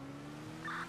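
A car in Grand Theft Auto drives by in a short burst of engine and tire noise, rising briefly near the end.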